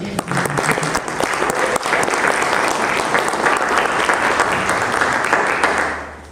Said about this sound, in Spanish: Nos acompaña también la jueza María del Carmen López Fabián, para quien también les voy a pedir un aplauso.